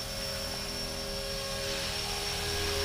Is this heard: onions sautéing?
no